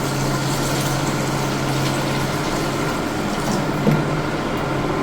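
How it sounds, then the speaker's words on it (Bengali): Water poured into browned chicken curry to make the gravy, a continuous close rushing pour over a steady low hum, with a small knock near the end. "এখন আমি পরিমাণ মতো এখানে জল দিয়ে দেবো, যেটা ঝোলের জন্য আমি ব্যবহার করছি"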